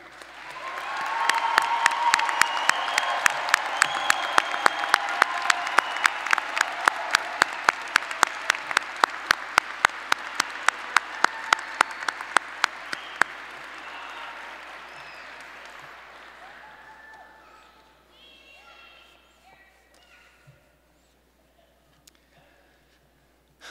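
Applause with scattered cheers rises from a commencement crowd, a loud sustained wave of many hands clapping that gradually thins and fades out, leaving a near-silent room with a few last stray sounds.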